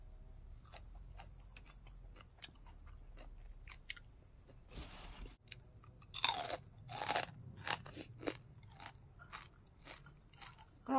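Close crunching and chewing of crispy pork rinds eaten with chili dip, boiled egg and rice, irregular bites and crackles growing louder toward the end, with no talk.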